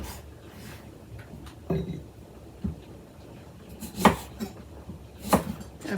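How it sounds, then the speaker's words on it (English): A knife cuts limes into quarters on a cutting board, a few distinct knocks and thuds spaced irregularly, close and fairly faint against a quiet kitchen background. "I'm going to go ahead and cut up some limes for our garnishes. I'm just going to cut them into quarters."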